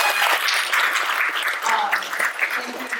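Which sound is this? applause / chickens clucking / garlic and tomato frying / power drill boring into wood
applause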